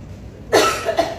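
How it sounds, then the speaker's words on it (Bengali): A person gives a sharp, close cough in two quick bursts after a brief quiet moment indoors. "সরি আমার কাশি হচ্ছে"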